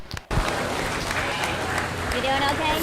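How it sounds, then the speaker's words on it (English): A crowd at a county fair 4-H and FFA sheep show breaks into sustained applause for six youth exhibitors after a brief pause, with steady, dense clapping filling the arena under some scattered voices. "Let's give them 6 individuals a round of applause"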